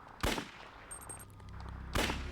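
Two loud, sharp handgun shots from a video game ring out about two seconds apart, each a sudden close crack, with faint electronic beeps and game noise between them.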